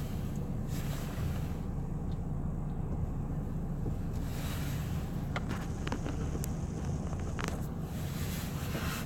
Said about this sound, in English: There's the beach, the water, the Atlantic Ocean.